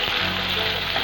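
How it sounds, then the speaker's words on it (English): Eggplant and potatoes fry lightly in hot oil, giving a steady, close, loud sizzle with a dense crackle that runs unbroken through a short moment. "Then fry the बैंगन and potatoes, lightly fry them"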